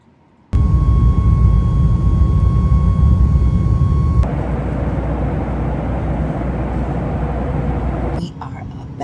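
Steady, loud roar inside an airplane cabin during a near-empty flight, a constant low rumble with a faint tonal whine that shifts character partway through before easing off near the end.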